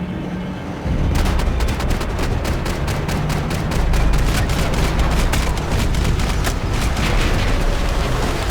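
A Max Payne 3 firefight opens with a sudden burst of rapid gunfire, then sustained loud automatic shots and heavy booms crowd together into a dense, roaring barrage.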